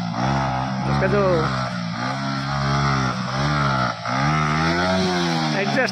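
Loud motorcycle exhaust droning and revving in repeated surges, the pitch rising and falling several times, with a voice talking over it, on the Bakhasar run in the Rann of Kutch.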